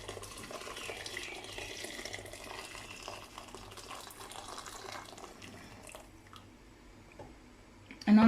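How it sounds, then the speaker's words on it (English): Boiled water from a kettle pours into a pot of pasta e fagioli with borlotti beans, a steady quiet splashing stream that thins out before a louder clank at the very end. "And I'm going to add more water."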